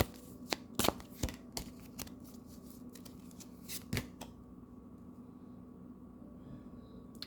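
Tarot deck shuffled by hand in quick riffling bursts with sharp card slaps, close and clear, then falling quiet as a card comes loose.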